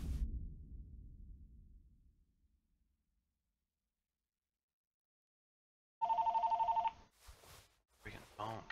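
A telephone rings in the room with a short run of rapid, loud electronic trills after a silence, followed by a few brief voice fragments.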